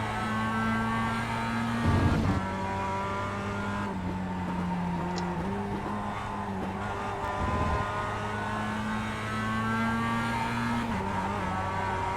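A race car engine in the iRacing sim at Lime Rock Park drones and climbs through the gears, a steady loud whine with rises and dips as the throttle comes on, with no talking over it.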